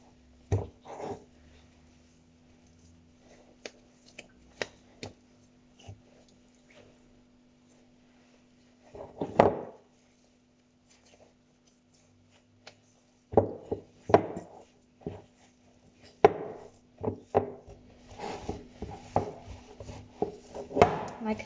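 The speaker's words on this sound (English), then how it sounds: "Now I'm going to make a ball and knead it a couple of times." Dough being kneaded by hand into a ball, pushed with the heels of the fingers on a work surface, giving soft irregular thumps and squishes in short bursts separated by quiet pauses, close and moderately loud.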